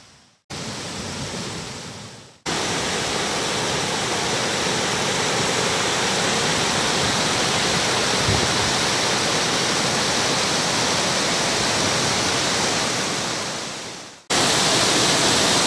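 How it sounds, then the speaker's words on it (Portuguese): Waterfall at Cascata do Comandaí during a rainstorm, a loud continuous roar of free-falling water, steady and close, briefly cut at the start and near the end. "Queda d'água"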